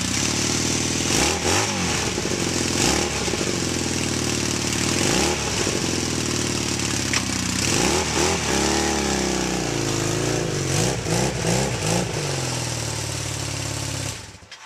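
A motorcycle being wet-started on choke revs repeatedly, the engine swelling and falling in several loud close bursts with rising and falling pitch, then settling into rougher idling before cutting off near the end.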